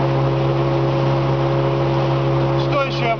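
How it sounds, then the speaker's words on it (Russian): An old boat motor runs steadily during a speed test, giving a loud, continuous droning hum with a fixed pitch throughout. A voice briefly appears near the end. "И вот этот старенький двигатель прибавил, как мне очень того хотелось,"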